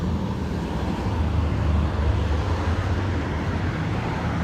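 Steady road traffic rumbles nearby, a continuous low drone of passing cars with a slight swell midway, with no talking over it.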